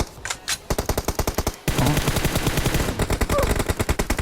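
Rapid automatic gunfire from PUBG Mobile team deathmatch rattles in steady bursts, loud and close, with short pauses between volleys and a dense continuous stretch in the middle.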